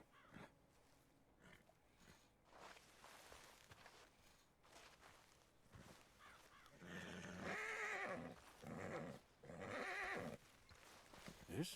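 A frightened horse in Red Dead Redemption 2 whinnies and snorts amid hoof clops, with calls growing louder in two strong bursts toward the end; faint talk sits underneath.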